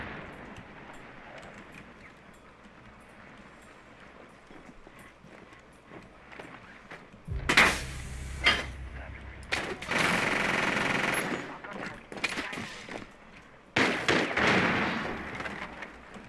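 Door breach in a tactical shooter game at Hereford Base: a quiet lull, then a sudden heavy blast followed by bursts of rapid gunfire and thuds, loud and chaotic, with another explosive impact near the end.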